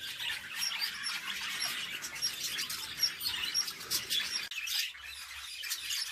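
Young budgerigar chicks chirp and squawk in a busy, high-pitched chatter of repeated short tweets, fairly close, going on steadily until a brief drop near the end.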